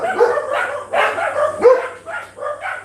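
Several dogs bark and yelp together in a continuous overlapping chorus, moderately close, with no clear breaks between barks.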